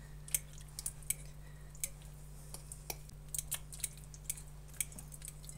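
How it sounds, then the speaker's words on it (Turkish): Fork stirring egg and vegetable oil in a bowl for chocolate chip cookie dough, giving faint, irregular tapping clicks and soft wet squishes over a low steady hum. "Şöyle bir karıştırıyorum çatal yardımıyla"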